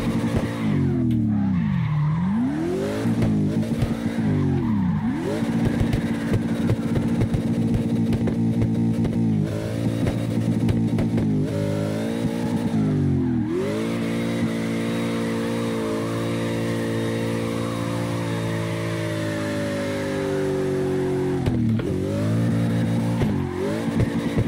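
An all-wheel-drive car drifts in CarX Drift Racing Online, its engine droning loud and continuous while tires squeal in long sliding bursts, the pitch dipping and rising with each transition, no voices.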